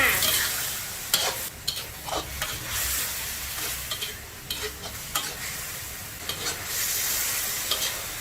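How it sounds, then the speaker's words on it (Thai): Pork liver and crisp vegetables stir-fry over high heat with sauce in a pan, a busy hissing sizzle broken by repeated scraping and tossing strokes of the spatula; no speech. "ใส่ผักลงไปผัดเลยจ้า จังหวะนี้ผัดไฟแรงไปเลยนะคะ"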